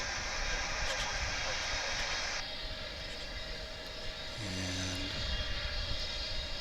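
An aircraft engine roars from a runway at DFW airport, a steady distant rumble and hiss that carries through the whole stretch with a brief tonal shift near the end.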